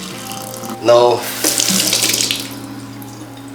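Water from freshly boiled saltfish pours off into a kitchen sink, a loud splashing rush that swells quickly and then tails off over a few seconds, with a brief spoken word at the start.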